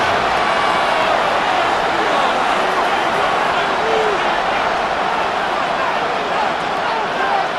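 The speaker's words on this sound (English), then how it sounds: "Getting hard to hear in here. The noise very loud from the crowd." Loud, continuous stadium crowd roar from a Madden NFL 26 video game broadcast of a Pittsburgh Steelers versus Baltimore Ravens matchup, a dense steady wash of noise with faint whistles and shouts running evenly throughout.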